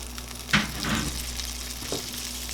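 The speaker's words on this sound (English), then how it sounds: "Add our green beans right into this pan." Green beans frying in a pan as they are stirred, a gentle sizzle under a low steady hum with a couple of scraping stir strokes, fairly quiet and close.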